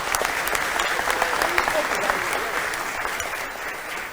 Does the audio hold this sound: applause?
yes